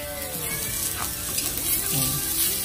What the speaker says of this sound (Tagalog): Kailangan lang, kunting mantiga lang. Mag-brown lang yung bawang, okay na yan.